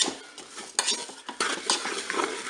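Apricots and sugar stirred inside a Cookeo multicooker bowl, with a utensil scraping and clinking against the pot in irregular close strokes, no talking.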